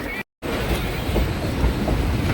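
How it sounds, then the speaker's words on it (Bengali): A Santragachi–Digha passenger train moves off slowly from Deshapran station, rumbling steadily close by with a low, continuous rolling noise after a brief cut to silence at the start. "আপনারা দেখতে পাচ্ছেন ধীরে ধীরে ট্রেন সামনের দিকে এগিয়ে চলছে"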